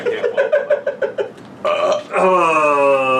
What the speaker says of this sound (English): That's a fake. That's a fake burp.